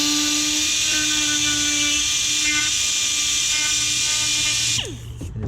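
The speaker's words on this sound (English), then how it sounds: "just kind of run that Dremel, air grinder, or whatever, just kind of right up on that top edge." A Dremel or air grinder runs steadily along the top edge of a Pioneer 1000 door panel, a continuous high whine held close and loud for nearly five seconds before the tool spins down and cuts off.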